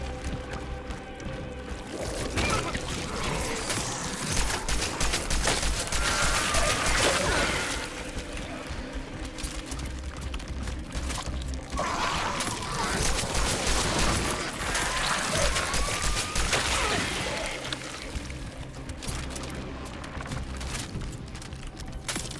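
Rapid bursts of gunfire crackle in the video game Cronos: The New Dawn, loud and dense in two long volleys separated by a brief lull, with other game noise underneath.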